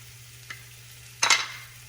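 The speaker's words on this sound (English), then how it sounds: "Then I'm gonna drop my leeks, onions, garlic and ginger." Leeks, onions, garlic and ginger drop into a hot pan with a soft tap and then a sudden loud sizzling burst that fades over about half a second, heard close with no voices.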